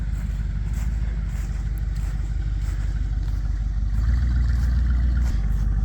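A Bombardier vehicle's engine running under a driver's throttle, a loud steady low rumble that swells slightly as gas is given, close and constant.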